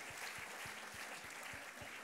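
A church congregation applauds during a morning service, a faint, distant wash of clapping with a steady low thump repeating underneath.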